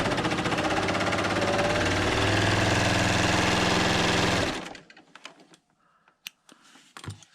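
A Bernina L890 sewing machine stitches through quilt layers with a steady, loud mechanical whir for several seconds, then stops, leaving faint handling clicks.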